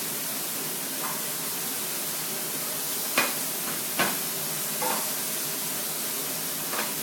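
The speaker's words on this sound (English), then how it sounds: "So just saute the mushrooms and make sure the skillet remains hot." Mushrooms sauté in a hot skillet, giving a steady broadband sizzle with a few brief louder stirring scrapes and pops spaced across the clip.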